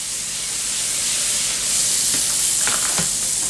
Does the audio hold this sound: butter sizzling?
yes